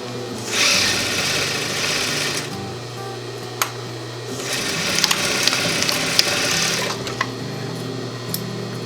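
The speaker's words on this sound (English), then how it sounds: "make sure you like back tack over it just to make sure it's secure and in place." Sewing machine back-tacking an elastic hair tie onto a fabric face mask made from vacuum bag material: steady motor whir in bursts with brief pauses and small clicks, fairly close and alone.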